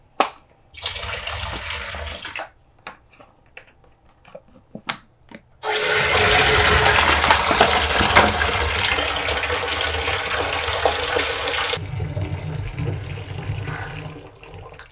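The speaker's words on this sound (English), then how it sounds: "Once our water is filled up" Hot water runs from a tap into a tub for washing baby bassinet mesh, a soft splashing at first, then a loud, steady gushing fill that drops to a quieter trickle near the end.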